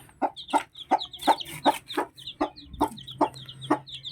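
A mother hen clucks beside her crossbreed chicks in a pen, giving about ten evenly spaced, close clucks in a steady rhythm, with thin high chick peeps scattered between them.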